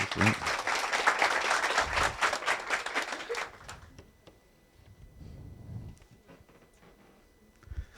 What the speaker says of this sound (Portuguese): Tá, palmas, né, gente?